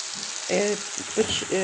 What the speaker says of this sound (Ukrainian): Почала смажити. У мене нема зараз вершкового масла, тому я смажила на олії.